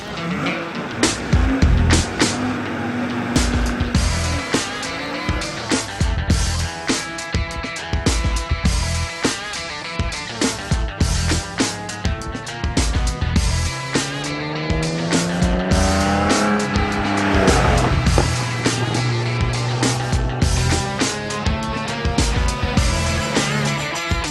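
Classic cars run a regularity test on the Lignières circuit, engines revving and shifting through gears with repeated tire squeals and cars passing close, loud and continuous throughout.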